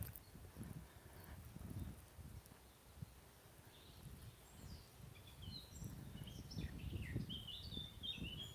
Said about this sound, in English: That was a bit, ooh, a very talented blackbird singer